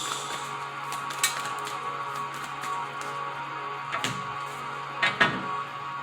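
Tarot cards being shuffled by hand, giving a few soft riffling and tapping bursts against a quiet room hum, with the clearest flurries near the end.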